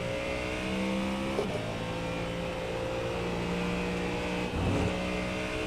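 A race car in the iRacing sim at Spa drones steadily through its engine note, with two quick dips where it short-shifts through gears before pulling on again, moderately loud and alone.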